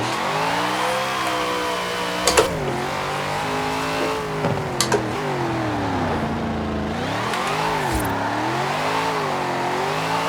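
A car engine drifting in Forza Horizon 4, holding a loud steady drone that rises and falls in pitch as the revs change through the corner, with a couple of brief sharp bursts along the way.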